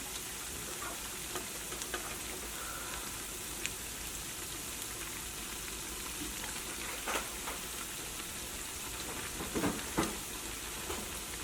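Steady, dense sizzling of rice vada frying in hot oil, with occasional soft pops and scrapes over a constant crackling hiss.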